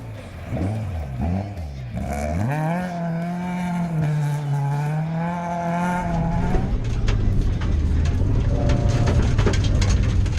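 A classic Toyota two-wheel-drive rally car powers through a demanding gravel safari stage, its engine note rising and falling through gear changes, loud and close, then roaring steadily as it passes.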